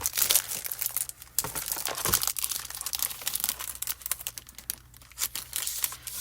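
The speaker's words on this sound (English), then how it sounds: "Cut some Crafty Critta paper." Crafty Critta paper for hot foiling is cut and handled up close: continuous crinkling, rustling and sharp tearing crackles, with irregular bursts and no talking.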